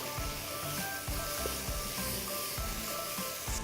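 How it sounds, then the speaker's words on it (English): Ingredients stir-fried in a pot for a rice congee, a steady close sizzle with repeated scraping and stirring strokes throughout, no talking. "And then just further stir fry it up."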